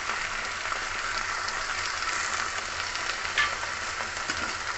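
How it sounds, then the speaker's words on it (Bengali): Jute leaves being stirred and sautéed in a pan with salt and turmeric give off a steady, soft sizzle with faint scraping, close and continuous, and no one speaks. "ভালো করে একটু মিশিয়ে নিয়ে কষে নেবো"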